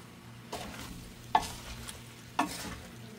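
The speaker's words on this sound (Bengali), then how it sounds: "এখন আমি আবারও নেড়ে চেড়ে এগুলো মিশিয়ে নিচ্ছি।" Spicy pasta with meat and egg being stirred and mixed in a pan, giving a low steady sizzle broken by three sharp utensil scrapes and knocks spaced about a second apart, close and moderately loud.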